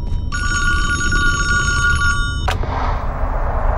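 Old-style telephone bell ringing in the Friday the 13th Virtual Cabin video game, one loud continuous metallic ring of about two seconds that cuts off with a sharp click over a steady low background hum.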